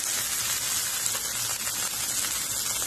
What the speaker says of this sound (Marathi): थोडंसं भाजून घेऊ म्हणजे ना टोमॅटोचा आणि कांद्याचा कच्चापणा निघून जाईल